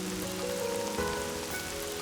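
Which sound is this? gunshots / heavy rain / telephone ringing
heavy rain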